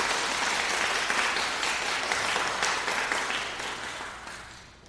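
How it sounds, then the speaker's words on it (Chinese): A church congregation at Sunday worship claps to welcome a visiting pastor. The applause is dense and sustained, then tapers off gradually toward the end. "我们一起用拍手来欢迎他来"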